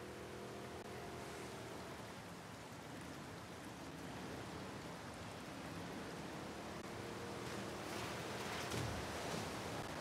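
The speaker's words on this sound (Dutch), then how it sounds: "En dan is de rivier hier." River water flows steadily in The Last of Us Part II, a soft continuous rushing wash that stays even and faint for the whole stretch, with no talk.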